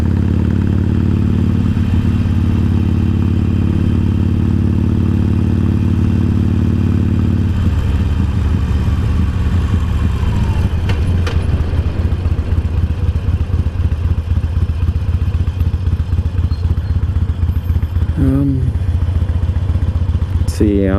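Harley-Davidson motorcycle riding along twisting back roads in Japan, its engine a steady low loud rumble that drops pitch and turns throbbier partway through, with wind buffeting and a brief rising rev near the end.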